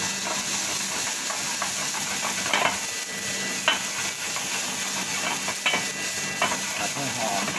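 Garlic and onion stir-frying in hot oil, a loud steady hiss and sizzle with occasional stirring scrapes throughout.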